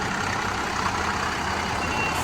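Alam Flora garbage truck reversing, a steady broadband engine and road noise filling the whole stretch with a faint high tone near the end; individual beeps are not clearly separated.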